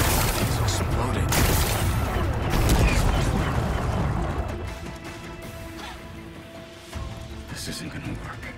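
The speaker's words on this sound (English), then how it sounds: "Gotta blast away some rocks, so I can expose the power cell." Rocks blasting apart in Horizon Forbidden West: loud, dense rumbling booms and crashing debris for the first four seconds, dying into a lower rumble with a lighter impact near the end, likely under game speech.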